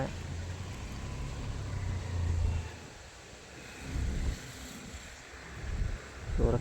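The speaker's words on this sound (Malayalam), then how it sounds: "അത്യാവശ്യം നല്ല കാറ്റുണ്ട്" Gusts of wind buffet the microphone in rising and falling waves, with a faint low rumble underneath.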